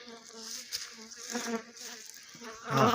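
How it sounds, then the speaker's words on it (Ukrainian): Honey bees buzz as they fly out of their hives at an apiary, a close, wavering drone of several insects passing near, with a sudden louder buzz at the end. "Наші бджілки вилетіли."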